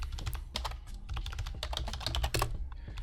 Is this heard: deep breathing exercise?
no